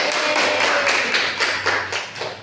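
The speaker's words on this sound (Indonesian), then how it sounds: "tepuk tangan untuk kelompok 2" A small classroom group claps for a presenting team, a short burst of close, fairly loud hand claps in a quick, uneven rhythm.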